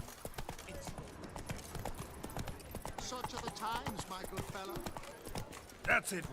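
A horse's hooves gallop in rhythmic clip-clop in the Witcher 3: Wild Hunt video game, moderately close, under a voice talking most of the way through.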